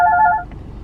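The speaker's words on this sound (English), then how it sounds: "I'm getting a phone call." A mobile phone rings with an incoming call, giving a brief loud electronic tone of about half a second that cuts off into quiet.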